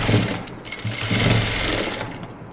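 A sewing machine runs in close, steady bursts while stitching the skirt of a newborn baby's photo-shoot dress, its motor whirring loudly with brief pauses between runs.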